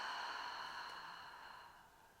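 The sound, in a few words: exhaling breath during a hypopressive breathing exercise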